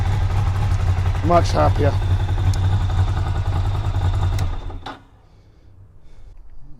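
A Ducati Monster motorcycle with new exhausts idles steadily with the choke on, a low throbbing rumble under a short spoken comment, then cuts off abruptly near the end, leaving quiet.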